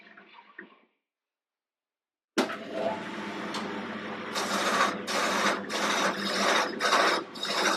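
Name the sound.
bowl gouge cutting wood on lathe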